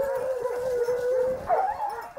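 Bruno du Jura hunting hounds bay and howl in woodland, a sustained mournful howl with a rising yelp near the end, at middle distance with no voices.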